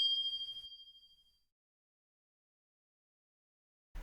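A single bright bell ding rings out and fades away over about a second, followed by silence and a brief low thump at the end.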